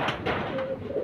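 A racing pigeon arriving at the loft after a race gives a brief coo amid rustling, breezy outdoor noise, close and moderately loud.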